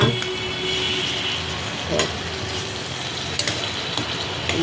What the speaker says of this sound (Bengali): মশলাটা কষা কষা হোক